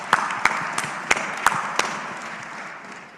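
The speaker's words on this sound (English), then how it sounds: "Give her a round of applause." A small group claps together with sharp individual claps standing out, the applause fading gradually toward the end.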